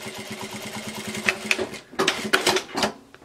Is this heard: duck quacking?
no